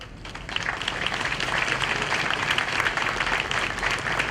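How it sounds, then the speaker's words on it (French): A crowd at a public gathering applauds a standing scientific committee, steady dense clapping that holds at an even, loud level from start to finish without speech. "je demande à la population de vous applaudir"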